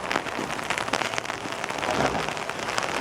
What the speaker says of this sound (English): It's raining. It's raining. It's raining.